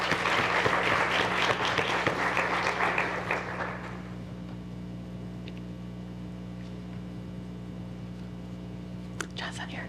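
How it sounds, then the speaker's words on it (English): Audience applause at an adjunct and field instructor appreciation event, fairly distant clapping for about four seconds that dies away into a quiet room with a steady hum and a few faint taps. "Let's give them a round of applause already for coming up."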